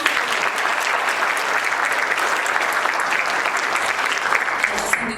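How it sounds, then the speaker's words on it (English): An audience at a public health partner recognition ceremony gives a steady, sustained round of applause, dense clapping filling the room from start to finish. "So one more round of applause for them."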